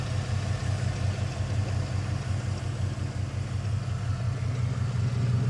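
A 1996 Ford F150 4x4 engine with 220,000 miles idles with a steady, even low rumble, heard alone and close without talk.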